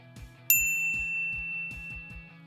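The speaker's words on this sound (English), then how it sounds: "ring the bell to be notified about our latest videos" A single bright notification-bell ding rings out once and lingers over a steady, pulsing low music beat.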